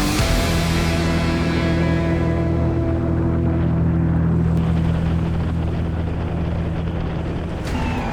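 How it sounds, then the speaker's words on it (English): Powerboats pound through large ocean waves on the run to a turn buoy during an offshore race, a loud, steady engine drone mixed with wind buffeting and water rush throughout. "Some rather large waves need to be negotiated to the turn buoy."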